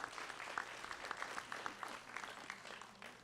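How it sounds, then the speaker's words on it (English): An audience at a Calgary Ward 7 election debate gives a steady round of applause, moderately distant with a room-filling wash of many hands and no talking. "Again, round of applause."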